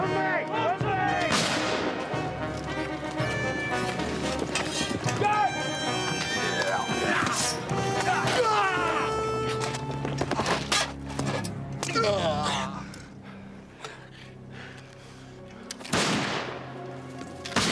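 Musket volleys and artillery booms ring out in a Waterloo battle scene, sharp reports and heavy blasts scattered across the span amid shouting voices, horses and a dense soundtrack.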